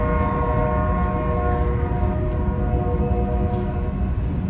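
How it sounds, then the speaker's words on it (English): A train passes through a town, its horn holding a loud, steady multi-tone blast for several seconds over the heavy rumble of the rail cars. "I would hate having to hear that horn every time a train blew through town"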